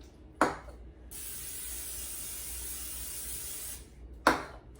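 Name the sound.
cooking spray on baking pan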